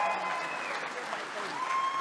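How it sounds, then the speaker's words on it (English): Audience at an honors gala gives a brief, continuous round of applause, a moderately loud wash of clapping hands with faint voices mixed in. "Please, a round of applause."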